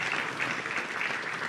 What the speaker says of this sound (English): when you clap more, the anointing comes.